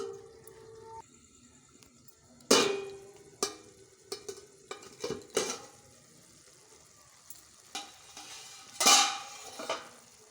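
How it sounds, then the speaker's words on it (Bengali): Ridge gourd and potato cook in a pan with a quiet background sizzle, broken by sharp clanks and scrapes of a spatula and lid against the cookware. "ঢাকা দিয়ে এটাকে ভালো করে কষিয়ে নিতে হবে।"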